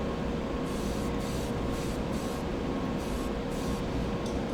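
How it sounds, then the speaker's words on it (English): An airbrush sprays Tamiya paint from small bottles, giving a continuous close hiss of air that pulses slightly in short bursts, with no voices. "this is the first time that I'm spraying the Tamiya out of the little bottles"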